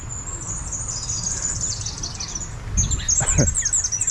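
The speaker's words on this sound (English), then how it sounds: "Those are not real birds, that was from a speaker." Recorded birdsong plays from a loudspeaker at Busch Gardens theme park in Florida, a steady high twittering chorus that continues throughout, joined near the end by a louder whoosh and rumble of passing motion.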